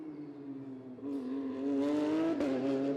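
A race car in the Gulf Pro-Car series nears and passes on the Yas Marina Circuit, its engine note climbing and rising in loudness from about one second, steady and strong to the end, with no talk.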